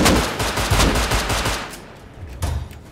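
Gunfire in the Rust video game, a loud, close burst of rapid automatic shots that thins out, then a few more shots near the end.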